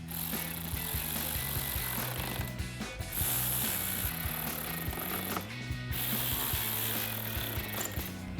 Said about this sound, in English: take a 7mm socket to tighten those down